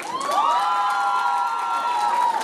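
A crowd at a KVK comedy contest awards ceremony cheers and whoops loudly for a team, with sustained voices forming a steady roar and no spoken words.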